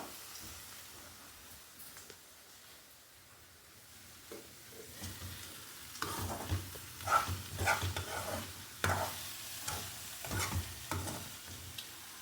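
Bitter gourd and onion curry frying in oil in a home kitchen pan, with a soft steady sizzle and intermittent stirring scrapes that grow louder and more frequent midway, no talking.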